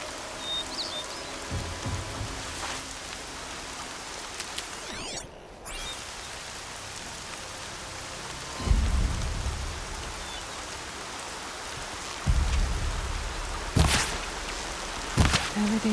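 Steady rain pours down in the Horizon Zero Dawn game world, a dense hiss on surfaces with a few low rumbling thunder rolls and sharp bursts breaking through now and then.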